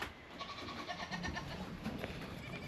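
A dairy goat gives a faint, short bleat in a quiet pen, with soft background rustle around it.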